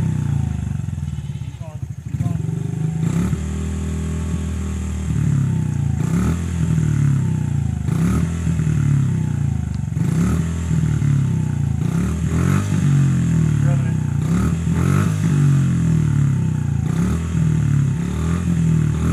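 Motorcycle engine idling and revving as the throttle is turned, a steady close mechanical drone with rising and falling surges, while a voice talks over it.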